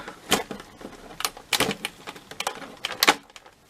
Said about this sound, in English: they are the metal ones, so you've got to really snip them